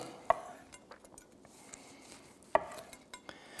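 A knife slices double smoked ham on a board, giving two sharp clicks of the blade striking the board amid soft scraping and faint cutting sounds, close and quiet; nobody speaks.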